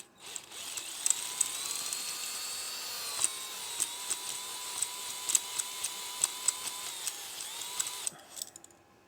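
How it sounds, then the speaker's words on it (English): A power drill in low gear whirs steadily for several seconds with faint clicking ticks over the motor hum, then stops abruptly. "Probably should have the drill in low gear."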